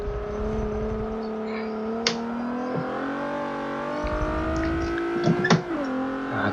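Race car engine in Forza Motorsport 7 winding up through the revs, a clear rising tonal whine that dips and climbs again as gears change, with brief clicks and bumps along the way.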